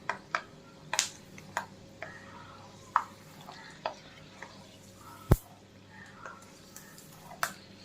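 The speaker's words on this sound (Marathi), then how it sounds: "शेंगदाणे पण काढायला हलवत राहा म्हणजे सर्व ठिकाणाहून सारखे भात तळले जातील" Peanuts and thin poha fry in a pan for crispy chivda while a spoon stirs them, giving scattered, sharp scraping clicks and taps at an irregular pace over a faint, steady background.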